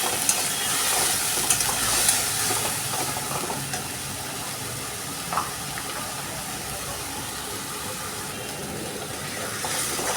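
Onion, ginger and garlic spice paste fries with turmeric for a bhola fish curry, giving a continuous close sizzle with faint stirring under it and no talk.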